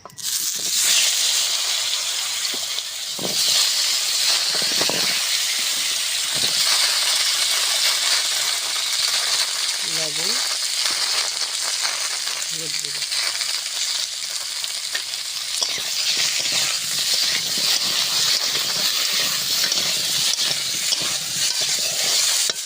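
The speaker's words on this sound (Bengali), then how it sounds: "ভাজা তেলের ভিতরে আলু আর কচুটা দিয়ে ভেজে নেব" Potatoes and taro fry in hot oil, a steady, close, bright sizzle and hiss that continues for the whole stretch, broken by a few faint clinks of a utensil.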